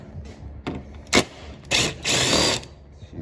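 A ratchet zips a 10 mm bolt off the bumper of a wrecked Chrysler 200: a brief whir, then two louder bursts close by, the last lasting about half a second.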